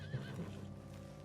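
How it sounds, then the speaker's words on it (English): A spooked horse in Red Dead Redemption 2 lets out a short, nervous whinny, with a faint hoof clop in a quiet game scene, no voices. "What's got this horse spook, huh?"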